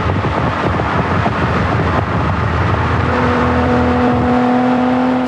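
A Lamborghini Countach travels at 180 mph, giving a loud, steady engine roar with strong rushing wind and road noise throughout. A sustained drone grows more pronounced toward the end.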